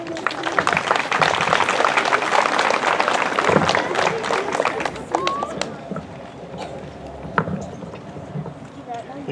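Audience applause at an elementary school legacy celebration ceremony, a dense patter of many hands clapping at moderate distance that slowly thins toward the end, with a few sharper claps standing out.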